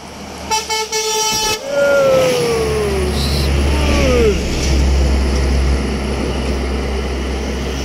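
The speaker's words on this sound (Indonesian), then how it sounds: "Ada bus Putra Pelangi dari Medan, goyang, masuk" A Putra Pelangi intercity bus on the Medan–Pekanbaru route roars past close by, its engine droning loudly after a few sharp horn blasts at the start, with faint voices in the background.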